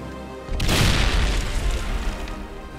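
A grenade goes off in Medal of Honor: Airborne, a sudden deep boom near the start that rolls into a long rumbling decay.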